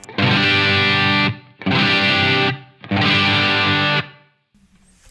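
Three sustained chords of overdriven electric guitar through a Line 6 Helix modeling a Soldano SLO 100 amp, each ringing about a second before cutting off, with a brief quiet tail at the end.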